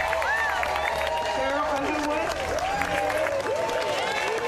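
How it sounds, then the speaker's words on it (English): Studio audience applause on a daytime talk show welcoming guests, a steady dense wash of clapping with some cheering, running continuously under an announcer's voice that speaks over it throughout. "let's give a round of applause for Walk of Famer and film star Kathy"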